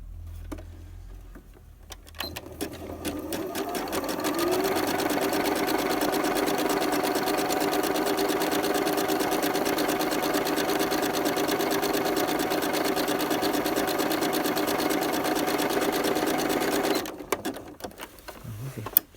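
A sewing machine stitches fabric run along a guide, starting after a short quiet lead-in, then running in a steady loud mechanical whir for about fifteen seconds before stopping.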